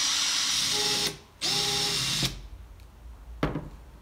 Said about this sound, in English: just watch your wiring and just run the drill through that